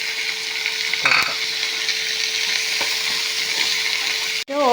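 Chopped tomato sizzling in a pan with egg for egg puttu, a steady close frying hiss broken by a few clatters of stirring, with no talk.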